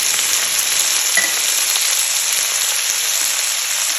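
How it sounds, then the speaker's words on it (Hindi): Spices frying in a pan with chilli powder, salt and turmeric, a bright, even hiss of sizzling oil held steady throughout, close with a faint stir. "अब इसको करेंगे अच्छे से भूनेंगे"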